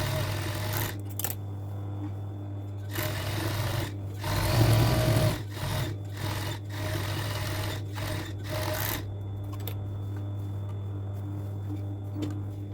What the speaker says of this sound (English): After attaching the sides, make sure you overlock both sides